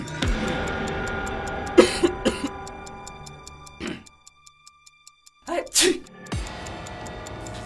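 Several sharp coughs ring out close up, one cluster early and another later, separated by a stretch of near silence and backed by faint music.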